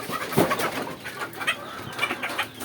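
Several laying hens on a small poultry farm cluck nearby in short, irregular bursts, one louder call standing out early, over quiet background.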